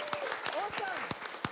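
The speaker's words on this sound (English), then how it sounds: "a big round of applause for Tamara there" A panel-discussion audience claps in a steady patter of overlapping hand claps for a brief moment, with a voice speaking over the clapping.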